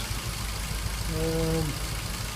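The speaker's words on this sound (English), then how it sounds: "You can hear the misfire there." A 2003 Ford Focus 1.6 petrol engine with a misfire idles close by, giving a low, uneven, slightly lumpy rumble with a brief tonal whine partway through and no talking.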